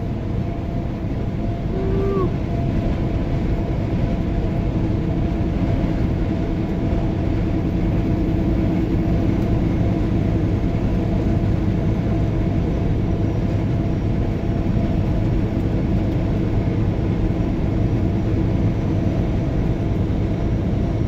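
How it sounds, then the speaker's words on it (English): A freight train rolls past near White Mountain, Wyoming, a steady, continuous low rumble of wheels and cars that holds at an even level for about twenty seconds, with no voices. "See if I can get the train."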